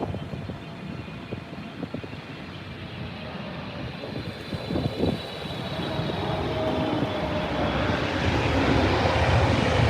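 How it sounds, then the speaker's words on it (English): An Etihad Boeing 777 freighter landing at Heathrow on a windy day, its jet engine roar building from a steady rumble into a louder, broad rushing noise that swells toward the end. "Oh, is this an Etihad 777 cargo?"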